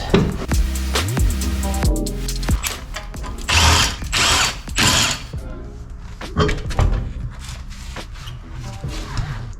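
Wheel coming off the driver's side of a Honda Acty kei truck, with a loud impact or power tool whirring in bursts and ratcheting clicks, followed by clanks and shorter tool runs.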